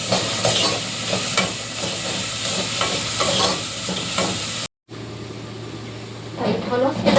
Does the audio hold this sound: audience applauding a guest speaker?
no